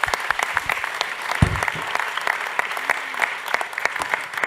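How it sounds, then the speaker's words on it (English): At the Monaco Ocean Week event honouring the Prince Albert II of Monaco Foundation, an audience applauds steadily, a full, even wash of clapping with individual sharp claps poking through and a brief low thump partway in. "Let's give them a round of applause."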